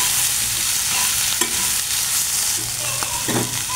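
Shrimp bhorta mixture frying with salt in a pan, a steady, close, dense sizzle with a few soft scrapes of stirring scattered through.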